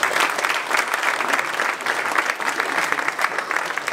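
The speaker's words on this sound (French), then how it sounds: "Tout le monde d'applaudir David s'il vous plaît." An audience at a conference talk applauds, steady dense clapping from many hands that carries on throughout at moderate loudness.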